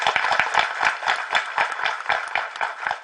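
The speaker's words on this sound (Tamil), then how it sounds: "அவருக்கு ஒரு மிக பெரிய கைத்தட்டல கொடுக்கணும்" Applause from an audience at a Tamil film audio launch event, a steady burst of clapping with distinct hand claps audible throughout, fairly close and loud with no talking over it.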